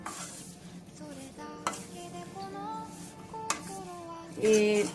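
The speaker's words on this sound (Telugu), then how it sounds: "దీన్ని ఇలా ఫ్రై చేసుకుంటూ తిప్పుకుంటూ ఉండాలండి" Leaves fry in a pan while a spatula stirs them, producing a sizzling crackle broken by scraping strokes and a sharp clatter near the end.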